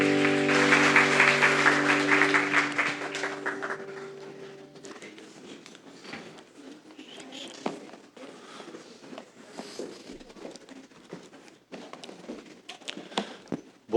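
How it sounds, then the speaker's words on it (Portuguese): Church congregation clapping in praise: dense applause blended with sustained music for the first few seconds, then thinning into scattered, sparse claps and taps that continue at a moderate level. "As palmas louvam ao Senhor."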